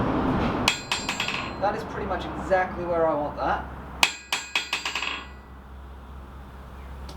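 Hammer strikes ringing on a blacksmith's anvil set on a wooden stump, a run of sharp metallic taps in two bursts with someone speaking between them.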